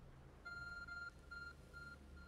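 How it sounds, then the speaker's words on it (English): A glowing object in Pokemon Legends: Arceus gives off faint, steady electronic beeps: several sustained high tones repeat in a regular pattern over a low ambient hum. "There's a glowing, beeping object over there."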